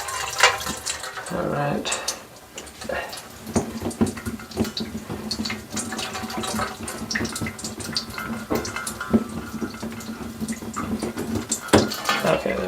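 Water leaking and dripping from a bathroom faucet during its removal, with running water mixed with clinks and scrapes of tools and fittings, and someone speaking briefly.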